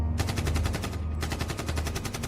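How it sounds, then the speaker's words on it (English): Rapid machine-gun fire in a narrated cave story, a continuous stream of dense, loud bursts with a brief dip in the middle before the firing resumes. "I heard the sounds of gunfire, shortly followed by more screaming"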